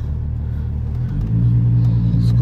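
A VW Jetta VR6 with a straight pipe and no working power steering drives off, its deep exhaust drone holding steady and then growing louder and fuller as it pulls away, with no talking.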